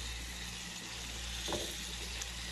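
Washed rice sizzling in a pan with butter and oil for stuffed grape leaves with lamb chops, a steady loud crackling hiss with a brief stir partway through.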